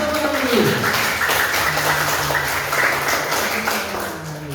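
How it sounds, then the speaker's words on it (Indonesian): Children in a Christian religious education class clap together in a loud, sustained burst of applause, with a faint tonal voice or hum running underneath. "Kurang keras tepuk tangan dulu."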